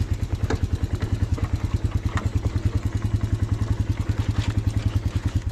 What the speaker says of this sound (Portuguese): Se eu soltar o freio, a moto pega.